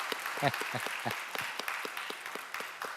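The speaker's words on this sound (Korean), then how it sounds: "환영의 박수 부탁드립니다" Church congregation applauding to welcome visiting parents during a Sunday worship service, a modest round of clapping with scattered individual claps and some voices mixed in.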